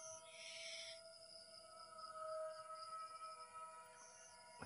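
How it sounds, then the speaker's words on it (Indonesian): Faint bird calls drift through a quiet abandoned building, a brief hoot-like cry near the start and another toward the end over a low steady background hum. "Mas enek suara burung-burung."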